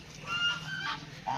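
Ducks and chickens call out at a farm beside a lake, a few short honking squawks close by, with no one talking.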